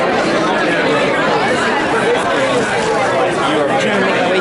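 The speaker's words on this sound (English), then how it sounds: "I'm trying to make my way through the crowd." Dense, steady crowd chatter of many travellers in an airport, a continuous loud babble of overlapping voices with no single speaker standing out.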